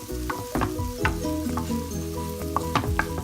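Leftover injera pieces are stirred and fried in a pan to make fitfit, with a steady close sizzle broken by the repeated scrape and clack of a utensil against the pan, and no talking.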